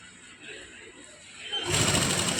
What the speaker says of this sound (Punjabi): ਇਥੋਂ ਤੁਸੀਂ ਮਸ਼ੀਨ ਨੂੰ ਰੱਖ ਕੇ ਆ ਦੇਖੋ ਬਿਲਕੁਲ ਕਿਨਾਰੇ ਤੋਂ ਪਹਿਲਾਂ ਸਲਾਈ ਲਵਾਉਣੀ ਆ